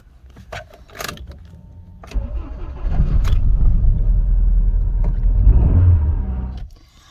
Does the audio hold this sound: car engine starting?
yes